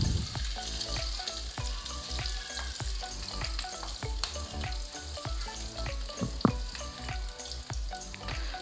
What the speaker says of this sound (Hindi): और ये बहुत ही जल्दी से फ्राई हो जाएंगी